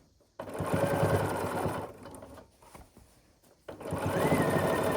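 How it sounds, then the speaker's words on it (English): A sewing machine stitching a quilted Christmas stocking, two close bursts of fast rhythmic whirring stitching separated by a quieter pause with small handling sounds. "we'll just keep sewing here to get back to where we started"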